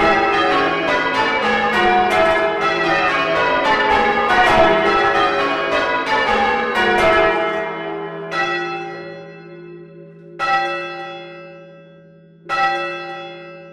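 Heritage church bells at St Mary's Church, one of them cracked, ring in a loud rapid cascade of overlapping peals, then thin to a few single strikes that hum away between hits.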